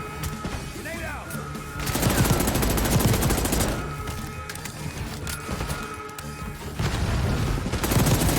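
Call of Duty Black Ops 6 combat, with bursts of gunfire and heavy explosive booms from a grenade blast and shooting, loud and dense throughout, rising in surges near the two-, four- and seven-second marks.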